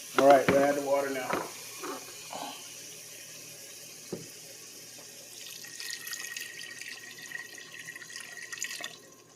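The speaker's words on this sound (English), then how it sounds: "All right, we'll add the water now." Water is poured into a pot of Texas chili, a thin running trickle and splashing after some clattering handling noises at the start, fairly faint and close, with a brief voice early on.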